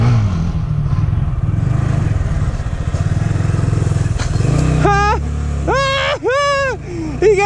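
A Honda Grom motorcycle engine drones steadily and then revs hard in rising, wavering bursts during a wheelie stunt, loud and close, with excited voices over it.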